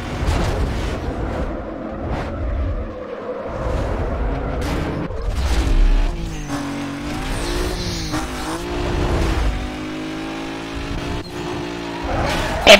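Racing cars in Need for Speed Most Wanted roar loudly and continuously, engines revving and shifting pitch while tires squeal, with game effects layered in throughout.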